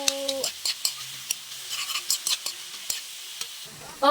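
Ginisang ginamos (sautéed fermented fish paste with tomato) being stirred in a frying pan: soft scraping strokes and faint sizzling in irregular bursts, close by, with no talking.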